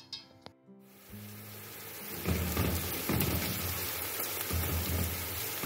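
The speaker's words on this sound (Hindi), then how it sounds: "ऑयल को गर्म करके अब इसके अंदर मैं ये प्याज डाल दूंगी और इसको फ्राई करूंगी।" Onions drop into hot oil and start frying with a rising hiss that settles into a loud, steady sizzle full of crackles, after a few quiet knocks of the pan at the start.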